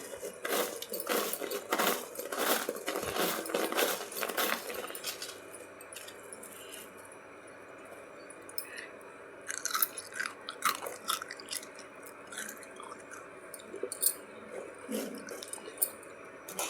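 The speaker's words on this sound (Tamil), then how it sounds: "அதுக்கு முன்னால் இந்த சிப்ஸோட சத்தம் எப்படி இருக்குன்னு கேட்டுக்கோங்க." Crunchy bitter gourd chips are chewed close up, dense crisp crunches packed into the first five seconds, then a quieter stretch followed by scattered, sharper bites and crackles toward the end, with no talking.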